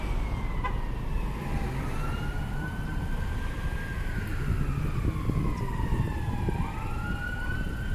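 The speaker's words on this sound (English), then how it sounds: "I hear a lot of sirens." Wailing emergency sirens rise and fall across several seconds, overlapping and fairly distant, over a constant rumble of traffic on Dutch Village Road.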